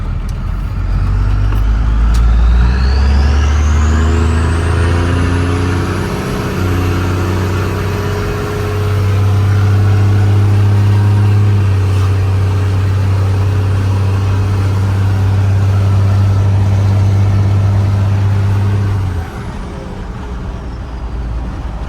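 A first-generation Cummins diesel pickup truck with upgraded steering and a relocated track bar drives steadily, its engine drone loud and continuous from inside the cab and rising and falling slightly with speed before easing off at the end.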